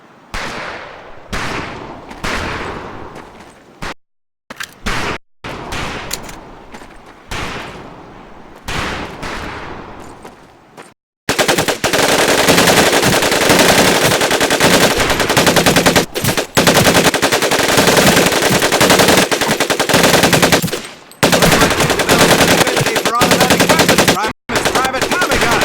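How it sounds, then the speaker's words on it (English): Thompson M1928A1 submachine gun bursts in Medal of Honor Pacific Assault, loud rapid automatic fire in short volleys at first, then long sustained near-continuous firing with brief breaks. "You four head back to the ammo table and Corporal Bates there will issue you each an M1928A1 Thompson submachine gun."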